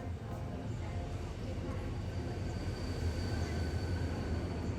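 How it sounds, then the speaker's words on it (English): A Siemens electric locomotive hauling a Korail Mugunghwa-ho train powers up and departs a station, a steady rumble with faint tonal motor hum, continuous and moderately loud with a voice speaking over it. "the Siemens locomotive powering up and hauling the consist away with a musical hum."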